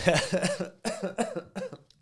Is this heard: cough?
yes